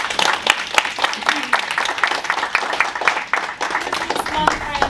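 An audience claps together at a relaxed talk event, a steady patter of many hands sustained throughout at moderate level.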